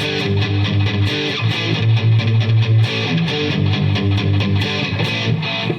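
An electric guitar strummed with a thick 0.060 pick, rapid driven chords ringing out continuously and loud with a distorted, sustained tone, no voices present.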